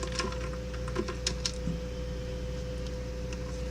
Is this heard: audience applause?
no